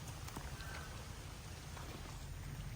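Steady broadband rain falls over a flooded backyard in Laos during a heavy downpour, a continuous wash of drops with low patter throughout and no voices.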